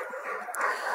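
Dogs at an animal shelter yip and whimper in a brief, fairly loud burst, with no talking over them.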